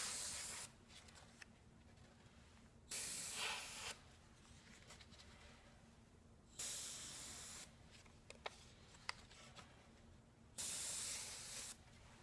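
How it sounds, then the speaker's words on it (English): Airbrush spraying red paint through a stencil in several short hissing bursts, each about a second long with quiet pauses between, close and soft. "now I can airbrush red inside of there, just fill that with red"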